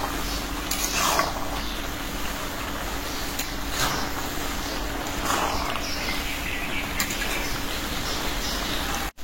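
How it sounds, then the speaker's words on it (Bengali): Okra and tomato stirred together in a cooking pot, a steady scraping and sizzling texture with occasional utensil knocks against the pot, close and continuous throughout. "এখন একটু নাড়াচাড়া দিয়ে মিলাই দিব।"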